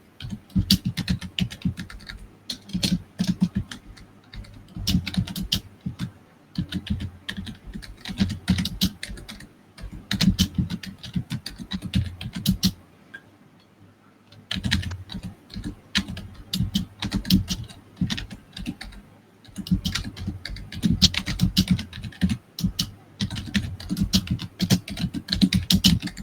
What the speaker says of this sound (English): Ah, it's loud typing.